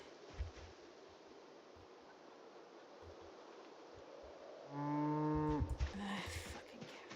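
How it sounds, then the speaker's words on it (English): A cow in Project Zomboid lets out one long, loud, low moo near the end, after quiet rustling ambience and a few soft thumps. "fucking cow."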